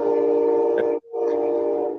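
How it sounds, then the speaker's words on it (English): A train horn sounding near a school, two sustained tonal blasts separated by a short break, loud and steady without any talking. "there's a train runs right next to my school"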